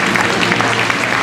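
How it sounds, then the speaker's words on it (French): An audience at an equestrian prize ceremony at the Longines Masters Paris claps, a dense and steady burst of loud applause throughout. "Oui, oui, applaudissements pour Claire"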